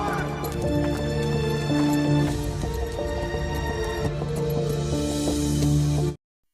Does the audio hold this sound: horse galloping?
yes